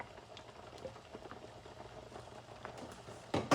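Shredded beef soup simmering in a pot just after scrambled eggs are poured into the middle, giving a low steady bubbling hiss that runs throughout, with a brief louder clatter near the end.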